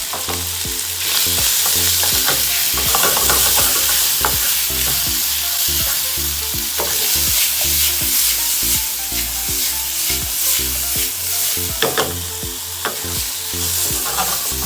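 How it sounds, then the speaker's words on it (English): Prawns sizzle loudly in a hot pan for chicken and prawn fried rice, a steady dense frying hiss with scattered crackles and soft stirring knocks throughout, no talking. "add another piece of the prawn."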